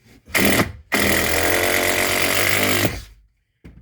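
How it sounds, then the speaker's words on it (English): A power drill drives screws into a ceiling collar tie, with a short whirring burst followed by a longer, loud, steady whine as a screw runs in, then quiet. "So what we're doing here is just running in these screws and reinforcing"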